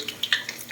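Close crackling sizzle of mendoan tempeh fritters with green chili frying in hot oil, with scattered bright pops and spits over a steady bubbling bed.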